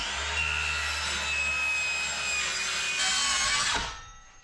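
A saw rips steadily through wooden boards being cut into 16-inch strips for building a wooden boat's galley, a loud continuous rasping cut for about four seconds that stops abruptly near the end.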